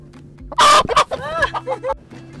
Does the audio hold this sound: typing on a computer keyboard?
no